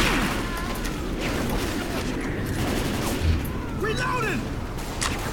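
Gunfire in the Left 4 Dead 2 video game rattles in bursts under a dense game soundscape, moderately loud, with a low thump partway through.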